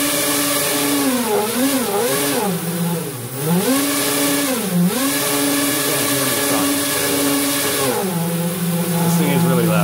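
Several DIY quadcopter motors spinning up to full throttle, a loud continuous whine with harmonics that swoop up and down as speed changes, steady and close throughout the clip.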